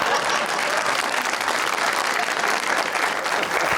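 Studio audience at a Pakistani comedy talk show bursts into dense, continuous applause, loud and steady for the whole stretch with no talk over it.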